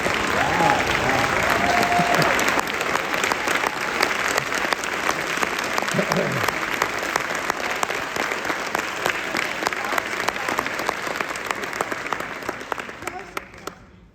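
Sustained audience applause at a film festival award presentation, loud and dense from the start, holding steady before tapering off at the end, with scattered cheers mixed in.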